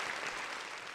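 Brief burst of applause for a podcast guest, a short, steady wash of clapping lasting about a second.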